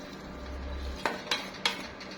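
A spoon scraping and clinking against a bowl while stirring a yellow-coloured steamed sweet potato mixture, three distinct knocks after a soft low rumble, close and clear with no talk.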